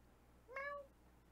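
A single short cat meow in a D&D session sound effect, a bright rising-then-falling call lasting under half a second, clear and close against a quiet background.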